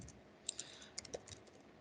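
Quiet computer keyboard typing during a webinar, a few sparse, light clicks and taps scattered irregularly over a soft background hiss, close but faint, with no talk.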